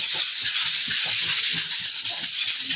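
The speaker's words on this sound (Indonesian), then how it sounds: "gunakan amplas yang nomor 400 ya, seperti ini. Oke, langsung kita amplas ya." Steady scratchy rubbing of 400-grit sandpaper on a water-based clear finish coat, continuous with a quick back-and-forth rhythm, close up and fairly loud, no talking.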